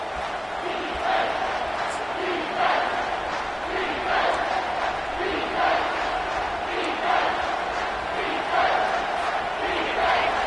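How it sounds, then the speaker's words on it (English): A packed football stadium crowd roars for Alabama on a third-down defensive stand, a dense sustained wall of yelling and cheering in swelling waves, with a commentator talking over it. "this crowd will blow out a vocal cord to help this defense"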